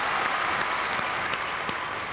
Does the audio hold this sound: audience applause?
yes